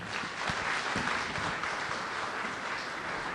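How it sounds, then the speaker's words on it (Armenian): A theatre audience greets actress Lala Mnatsakanyan with dense, sustained applause, a close and even roar of many clapping hands. "ծափարություններով դիմավորենք դերասանուհի Ասմուն Քող Լալա Մնացականյանին"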